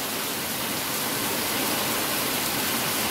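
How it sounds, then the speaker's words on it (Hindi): Heavy rain in Hyderabad, India pours down as a dense, constant roaring hiss, loud and unbroken throughout, with no voices. "बहुत ही जबरदस्त बारिश"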